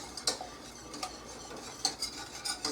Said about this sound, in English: you want to stir it constantly, otherwise you will burn the whole shebang